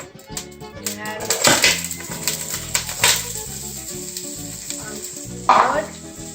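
Minced garlic from a jar hits a hot pan and sizzles, with bursts of crackling fry, metallic pan and utensil clinks and knocks, and a loud flare of sizzle near the end.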